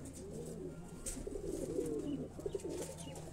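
Pigeons on a rooftop in Jalalpur Bhattian coo in low, repeated, throaty phrases, close but soft, over a faint steady background hum.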